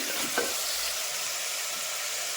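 Beans, carrots and potatoes stir-fry in a pan with a constant bright sizzle, with a single spatula knock near the start, close and unbroken.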